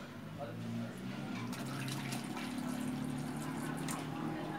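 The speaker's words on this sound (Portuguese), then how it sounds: "Eu já vou colocar água quente, que é para adiantar aqui para mim. Ó, colocando aqui com cuidado." Hot water poured carefully from a container into a cooking pan for a stovetop pudding, a continuous splashing and filling sound close by, fairly quiet, lasting several seconds.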